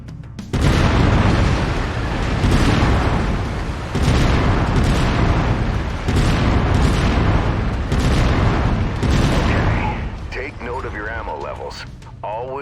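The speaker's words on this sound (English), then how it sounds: "I've mapped the autocannon to Weapon Group 1. You're free to fire whenever you're ready." A mech's autocannon fires in MechWarrior 5: Mercenaries. Loud, heavy booming shots repeat at a steady pace about every two seconds, then give way to a voice near the end.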